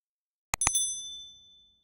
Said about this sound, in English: ring that bell so you get notifications